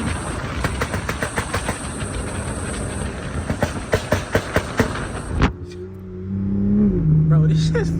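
Loud popping bangs from a 900bhp BMW 340i's exhaust, a rapid series of sharp cracks over engine roar ending in one big boom, followed by a lower rumbling idle.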